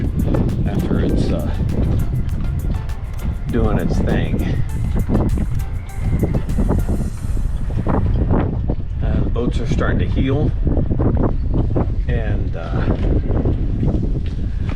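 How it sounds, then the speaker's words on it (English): Strong coastal wind gusting into the 50s mph buffets the microphone in a constant roar while someone talks over it, with rustling and creaking in the background. "You can probably hear the wind"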